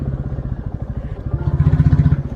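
Motorcycle on a rough mountain road climbing toward a village on a trek route, its engine chugging in a steady pulsing rhythm, close and fairly loud, with some rattle over the bumps.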